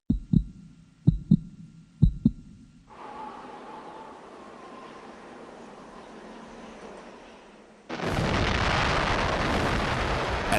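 An atomic bomb test: a few sharp thumps as a countdown, then a low sustained rumble, before a sudden loud roaring blast that continues steadily to the end.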